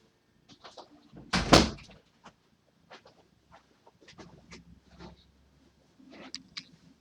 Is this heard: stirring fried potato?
no